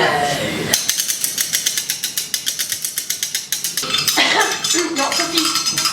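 A mallet being rubbed in a steady, rapid rhythm of bright metallic scraping strokes that runs for about three seconds, with voices talking before and after it.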